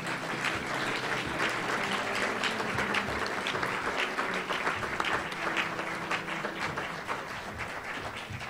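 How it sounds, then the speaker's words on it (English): A lecture audience applauds Franciscan priest Richard Rohr with steady, dense clapping that holds for several seconds before easing slightly. "Please join me in giving Father Richard Rohr one more round of applause."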